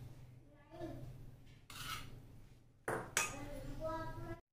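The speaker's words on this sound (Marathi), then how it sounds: "आणि हे लोणचं छान कालवून घ्यायचं आहे आपल्याला." A metal spoon clinks and scrapes against a dish while pickle is mixed with tempering of asafoetida and turmeric, in short bursts separated by quiet stretches, close and faint.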